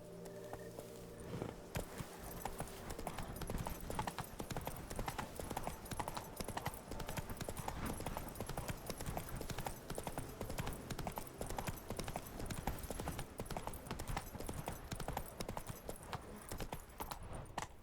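A horse ridden in The Witcher 3: Blood and Wine game clip-clops at a steady trotting rhythm for the whole stretch, loud and continuous over a faint game ambience.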